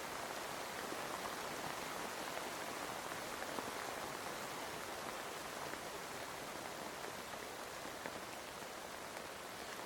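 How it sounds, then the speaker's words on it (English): Rain falls outside as a soft, even, continuous hiss of drops on surfaces, faint and unbroken for about ten seconds with no voices over it. "It's raining again."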